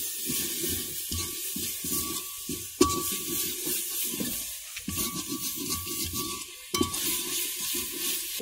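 Spoon stirring an aloo matar sabzi mixture in a pot in a rural Punjabi home kitchen, a steady rhythmic scraping and sizzle running throughout, close and fairly loud, with a few sharper knocks against the pot.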